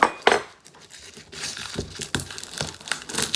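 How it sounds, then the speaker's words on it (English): Garlic cloves smashed with the back of a knife on a cutting board while pickling cucumbers, giving a few sharp knocks and crackling, crinkly papery skin sounds in close, quiet kitchen surroundings. "I'm going to smash a couple of cloves of garlic"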